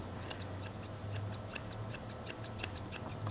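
Small scissors snip rapidly and steadily at a Shih Tzu puppy's face fur, crisp close clicks repeating in an irregular rhythm over a faint low hum, with no talk.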